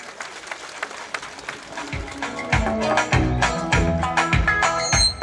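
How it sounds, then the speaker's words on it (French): Indoor audience applauding at a French-speaking ceremony, clapping starting sparse and building into steady, dense applause from a sizable crowd, fairly loud and close, continuing to the end. "Merci de l'accompagner avec des applaudissements"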